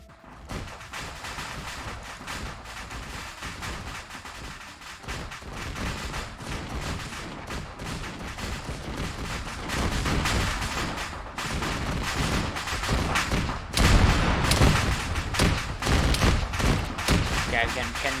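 Turret gunfire in a Mass Effect video game campaign: dense rapid volleys of shots that grow louder, with voices talking over them.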